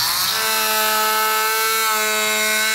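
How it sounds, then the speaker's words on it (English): Oscillating multi-tool cutting into a plastic bumper on a 2023 Chevrolet, a loud sustained high-pitched buzzing drone with a steady whine throughout, no voices. "Today I'm going to be using an oscillating tool to cut into this plastic."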